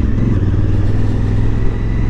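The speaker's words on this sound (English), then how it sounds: "it is a Honda Cub." Honda Cub scooter engine running steadily nearby on a Sunday street, a loud, even buzzing drone with a slight clattering texture and no talking over it.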